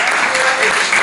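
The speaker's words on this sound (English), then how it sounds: "give a big round of applause to Adrian and Candy, ladies and gentlemen. Keep clapping as they make their way to the stage." An audience gives loud, sustained applause for a couple heading to the stage at a live interview event, a dense steady wash of clapping that fills the whole moment without pause.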